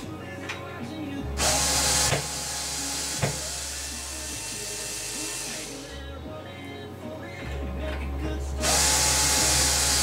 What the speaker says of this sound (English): I'm going to go ahead and I'm going to remove my screws.